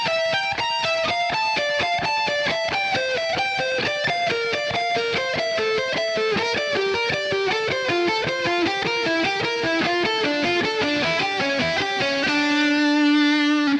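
Descending guitar arpeggios on the top two strings from Phantom of the Fretboard, with quick, evenly spaced picked notes rippling down through the key. The line is played solo and fairly loud, ending on a sustained ringing note.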